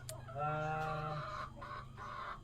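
Native free-range meat chickens on an Indonesian poultry farm make a loud, close drawn-out cluck followed by shorter clucks, with no talking.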